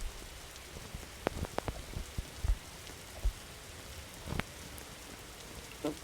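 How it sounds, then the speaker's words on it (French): Rain falls in the video game 99 Nights in the Forest, a soft steady patter with scattered sharper drop hits and low rumbling thumps of a thunderstorm, no talking. "je déteste la pluie, il y a des orages"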